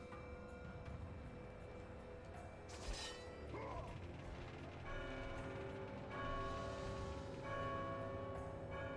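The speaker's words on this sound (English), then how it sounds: "Oh, a bell rang." A bell struck in the God of War 2 game, ringing out with a bright, lingering metallic tone over mechanical clanking, grinding gears and ratcheting, the ringing swelling again later amid steady in-game machinery noise.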